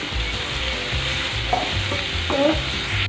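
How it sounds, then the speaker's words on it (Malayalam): A spoon stirs a salted, spiced mixture in a hot pan while it sizzles, with repeated scraping strokes close up and loud over a steady frying hiss. "ഇത് നല്ലപോലെ ഒന്ന് ഇളക്കി കൊടുക്കാം."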